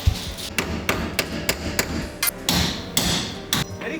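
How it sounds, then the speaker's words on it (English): Hammer blows on a tight-fitting tube bumper being removed from a Toyota 4Runner, a rapid run of sharp metallic strikes, close and loud, landing roughly twice a second with a few heavier thuds among them. "Need a hammer."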